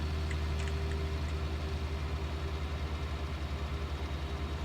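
A tractor engine pulls a big old lime spreader on a farm, a steady low rumbling drone with a pulsing throb that holds evenly throughout, close and continuous, with no talk.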